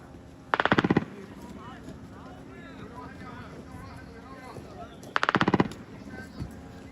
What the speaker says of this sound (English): indicated that machine gunfire came from within 115 meters of the camera